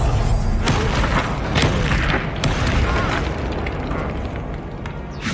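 Confringo fire spell bursts in the Hogwarts Legacy video game, a loud, dense roar of explosive rumble with a few sharp cracks layered over continuous booming battle noise.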